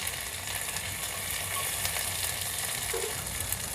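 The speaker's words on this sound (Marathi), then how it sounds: "थोडंसं फ्राय घालूया" Ginger garlic paste with spices fries over a low flame for a vegetable pulao, giving a continuous, even sizzle with faint stirring and no voices.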